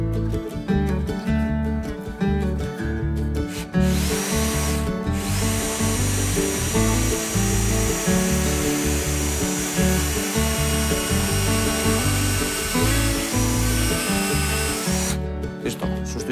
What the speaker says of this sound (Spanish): Ahora cogemos broca para madera con avellanador e introduciremos un tirafondo.